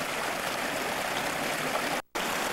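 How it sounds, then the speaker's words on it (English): Spring runoff pours down a former motorcycle trail in the Lemhi Range of Idaho, a steady, close, broadband rush of flowing water that drops out briefly near the end before resuming. "Now it's a stream."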